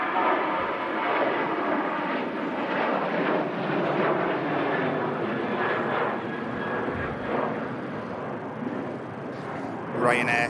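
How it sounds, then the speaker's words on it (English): Ryanair Boeing 737 climbing out of Manchester Airport, jet engines roaring loud and broad as it departs, a sustained rumbling wash with a faint voice underneath. "Ryanair 737 climbs out of Manchester, outbound to Oslo"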